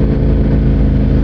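Car engine on a road passing close by while riding a motorcycle in traffic, a loud continuous rumble with steady low drone throughout the short moment, no voices.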